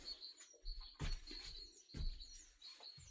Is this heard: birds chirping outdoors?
yes